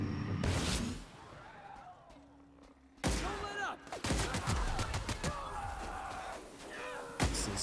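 Gunfire from shooting marauders in the video game The Outer Worlds comes as loud bursts of sharp shots and impacts, with a quieter lull before a heavy blast of sustained firing and further bangs.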